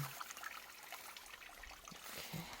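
A small forest ditch stream beside rural land below a mountain in Hamyang's Yongchu valley trickles and burbles steadily, soft and fairly close, with no talk.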